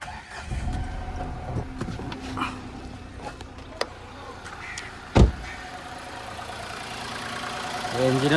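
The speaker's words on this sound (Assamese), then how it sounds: "মই ইঞ্জিনটো ষ্টাৰ্ট কৰি আপোনালোকক শুনাই দি আছোঁ" Nissan Magnite 1000 cc petrol engine idling, a steady low hum running throughout with a few sharp clicks and a brief thump, heard close with no speech over it.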